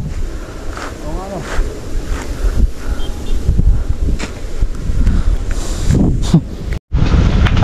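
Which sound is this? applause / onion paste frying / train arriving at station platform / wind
wind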